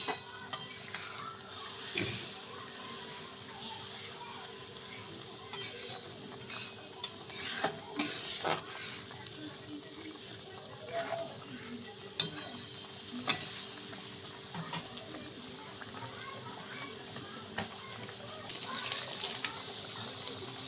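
Milk cooks in a pan for niramish shahi, stirred steadily, with a soft continuous sizzle and occasional scraping clicks of the spoon, fairly quiet and close with no one speaking.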